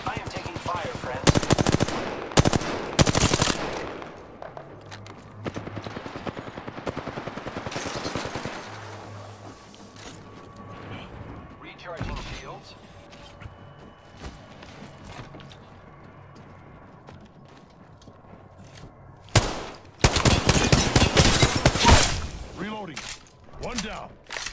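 Bursts of automatic gunfire in an Apex Legends match, loud volleys near the start and again toward the end, with quieter stretches of game sounds between and a voice talking at times.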